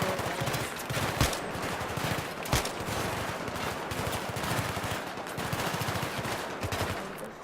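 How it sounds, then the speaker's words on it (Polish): Rapid automatic gunfire in Battlefield 3, dense bursts of close machine-gun shots with a few sharper single cracks standing out, loud and continuous. "Strzelam!"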